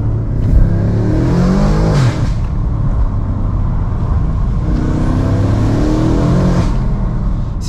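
A 1000hp BMW M5 in four-wheel-drive sport mode pulls hard through fourth gear, its engine note loud and close inside the cabin as the revs sweep up, ease briefly, then climb again.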